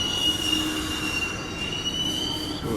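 An NJ Transit train running toward Penn Station at 34th Street, New York, with a steady rumble of rail cars, faint wheel squeal and a high sustained whine throughout, heard from on board.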